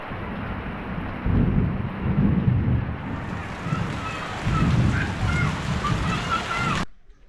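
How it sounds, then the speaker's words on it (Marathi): Heavy monsoon rain in rural Konkan pours steadily with low rumbling thunder rolling in waves, a dense continuous roar filling the scene. "पावसाचं वातावरण झालं आहे अक्षरशः ना काळे ढग आलेत"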